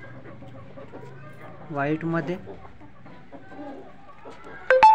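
Gavrani desi hens and roosters give a few short clucks and calls close by, with someone talking between them and a sharp tone near the end.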